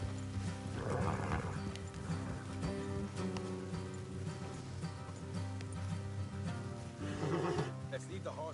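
Horses in the Red Dead Redemption 2 video game whinny twice, once early and once near the end, amid a dense bed of game music and outdoor ambience, with faint hoof movement underneath.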